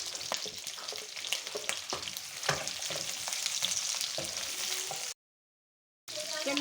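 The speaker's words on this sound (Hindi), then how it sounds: "तेज आंच पे हम अपनी सब्जियां फ्राई करेंगे।" Vegetables with garlic and capsicum fry on high heat in a pan, a steady close sizzle broken by stirring scrapes and clatters, cut off briefly by a gap of silence before resuming.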